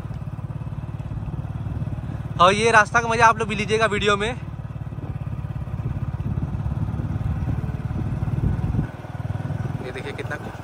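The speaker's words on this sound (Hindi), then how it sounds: "कार जा रही है, ट्रक जा रही है" Motorcycle riding on a road under construction in Varanasi, its steady engine rumble continuous and close, with passing traffic blending in. Someone talks over it partway through.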